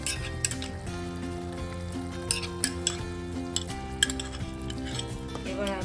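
Soaked Gobindobhog rice tipped into a pan of spices and stirred, giving close scraping and clinking of a utensil against the pot over a steady low sizzle, with music playing throughout.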